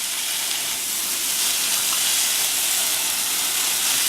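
Banana peppers and jalapeno peppers sauté in a pan, giving a steady, loud hiss of sizzling oil that holds evenly with no pauses.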